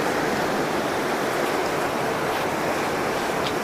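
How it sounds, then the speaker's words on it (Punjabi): Water plunges turbulently through the channel of an old water-powered flour mill, about a century old, in a village in Sangrur district. The rush is a constant, close, dense roar with no voices. "ਬੁਲੇਵੇਂ ਖਾ ਖਾ ਪਾਣੀ ਡਿੱਗਦਾ"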